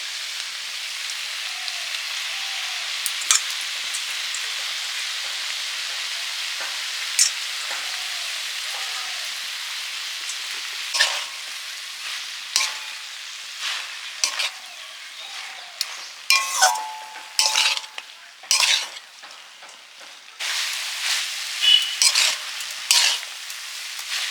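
Freshly picked chickpea greens go into a hot frying pan over a steady, bright sizzle, then stirring brings a burst of metallic clinks and scrapes that grow busier and louder toward the end, heard up close with no voices.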